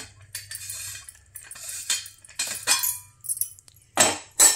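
An antique bronze jug of about four litres is handled, giving close metallic clanks, knocks and scrapes in irregular bursts that end in a couple of brighter ringing clinks.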